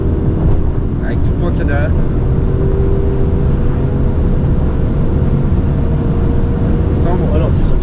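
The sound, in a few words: Defender car accelerating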